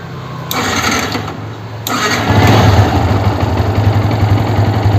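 A Yamaha R15 motorcycle with clutch noise and a pickup problem cranks loudly, catches and settles into a steady, rumbling idle, heard up close with no talk.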